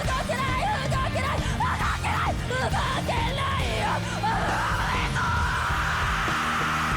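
A singer belts a strained, gritty fry scream with rasping vocal distortion over loud backing music in a live performance, the rough vocal line rising and breaking for several seconds.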